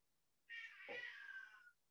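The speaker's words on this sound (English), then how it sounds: "Oh, my cat wants to chime in." A cat lets out a single drawn-out meow of about a second, close by and moderately loud, in an otherwise quiet room with no talking.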